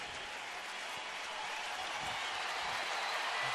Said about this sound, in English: Well, crowd in full throat right here.